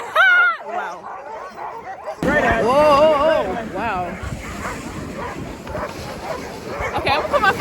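Sled dogs at a glacier camp in Alaska bark and yip in a loud, continuous chorus close by, while a person exclaims over the noise.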